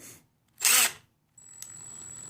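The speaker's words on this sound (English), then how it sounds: "And see it spinning around." A Ryobi 18-volt lithium-ion impact driver, rated at 1500 pounds of torque, whirs in a short loud burst. Then comes a quieter, steady spinning whine with a faint click, all close up and with no talk.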